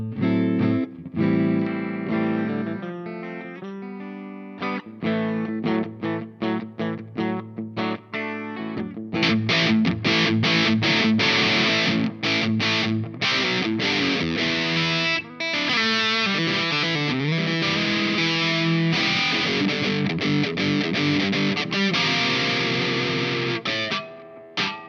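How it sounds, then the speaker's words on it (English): High-gain distorted electric guitar with hot Texas-style pickups in a Warmoth Strat, run through a Joyo Rigel preamp: choppy palm-muted chugs and stabs at first, then sustained saturated riffs and bends, loud and alone with no talking. "let's play a very high distortion style guitar"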